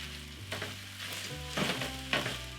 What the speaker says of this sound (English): At this point, all I want to do is just toast it and have the rice grains get coated with all those beautiful spices.